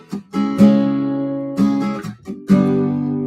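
Acoustic guitar strumming a chord progression, three clean ringing chords played close and loud, each struck and left to sustain before the next.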